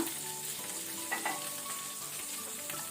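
Garlic and green chili fry in oil over a low flame, a steady close sizzle with a few faint clinks, unbroken and with no voices.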